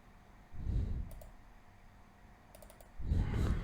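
Mouse clicks while filling in a visa application form on a website: a few sharp, close clicks spread out, with soft handling noise between them and no talk.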